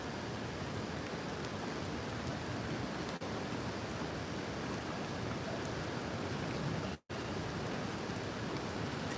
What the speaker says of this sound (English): It's only light rain, it's not too heavy.